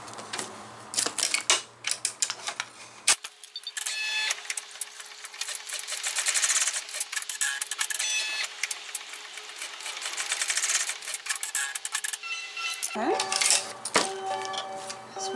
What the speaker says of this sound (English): So what it's going to do now is do a tack down stitch on each side to tack this down.